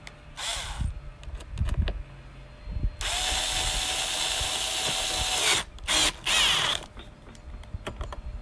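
Cordless power drill driving screws into a seat base bracket for a 1950 MG rebuild: a loud sustained whir of about two and a half seconds, then two shorter bursts, with clicks and creaks of handling around them.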